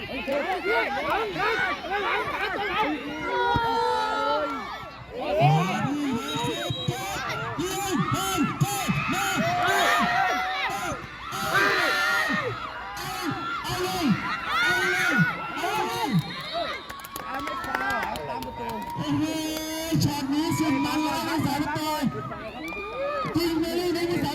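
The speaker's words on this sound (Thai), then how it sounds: "กองเชียร์ก็เชียร์สนุกสนาน" A cheering squad at a youth football match keeps up lively chanting and shouting, with children's voices and whoops rising and falling continuously, loud and close over crowd noise.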